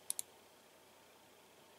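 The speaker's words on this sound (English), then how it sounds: "I'm going to copy this by right-clicking, hitting mark" Two quick, sharp computer mouse right-clicks sound close together near the start, then quiet room tone.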